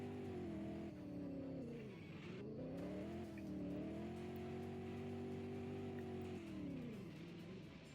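A Porsche 718 Cayman GT4 RS driven on a winding road with traction control off, its engine droning steadily then dipping and rising through gear changes and throttle lifts, a sustained close mechanical tone with no talking.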